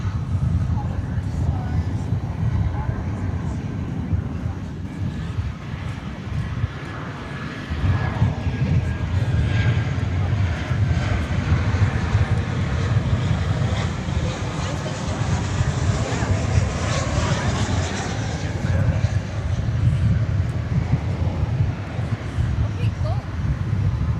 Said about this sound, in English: the white noise of the jet engines